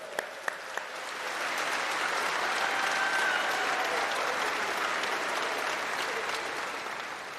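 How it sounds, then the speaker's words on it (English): Sustained applause from a university graduation congregation in Birmingham, a few sharp claps first, then a broad steady wash of clapping from a large seated crowd that rises and holds before slowly thinning. "I think that deserves a round of applause."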